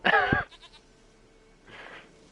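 Goat in the video game The Witcher 3: Wild Hunt, one loud, close, wavering bleat at the start, followed by quiet background and a fainter second cry toward the end.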